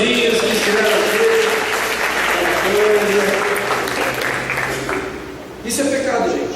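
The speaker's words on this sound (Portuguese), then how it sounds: "uma salva de palmas para os casalzinhos que estiveram aqui" A church congregation at a youth service gives sustained applause for couples, a dense wash of clapping that dips briefly toward the end then swells again, with voices and cheering mixed in.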